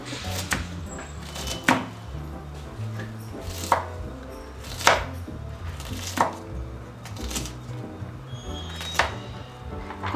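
Onion is chopped on a board with a knife, a series of crisp, close thuds at an uneven, unhurried rhythm over faint background noise, no talk.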